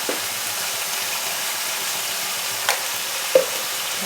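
Vegetables with turmeric and salt sizzle steadily in a pan, a soft even frying hiss punctuated by a few light spatula taps and clicks, close and with no talk.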